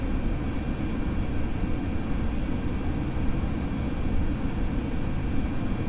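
Simulated airplane engine drone in Flight Simulator X on approach into Greenville's airport, a steady, loud, continuous roar that holds constant for the whole stretch without a break.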